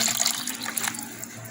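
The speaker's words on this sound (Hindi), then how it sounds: "इसमें मैं 2 गिलास पानी ऐड करूँगी।" Two glasses of water poured into a smooth kadhi batter, a steady splashing gush of liquid with no voices over it.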